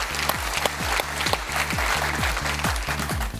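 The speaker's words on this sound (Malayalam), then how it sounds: "give Har A big clap" Television quiz-show studio audience applauding a contestant: dense, sustained clapping with a rhythmic musical backing underneath, fairly loud and close.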